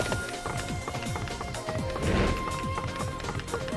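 A horse gallops with rapid, rhythmic hoofbeats under busy combat effects in the video game Warriors Orochi 3: Ultimate Definitive Edition, loud and continuous.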